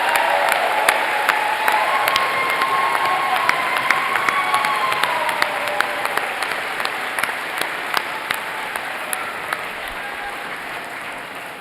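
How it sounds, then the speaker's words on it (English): A commencement crowd applauds master's degree recipients at Mount Mary University, sustained clapping with scattered cheers that slowly tapers over about eleven seconds. "Let's give a big round of applause to all of our master's degree recipients."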